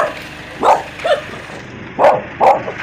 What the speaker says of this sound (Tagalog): May aso pa, oh. Parang gusto manakit ng mga aso.